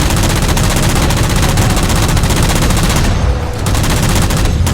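Continuous loud automatic gunfire in the Halo 4 video game, sustained bursts shooting down jammers with a brief dip near the end before the firing resumes.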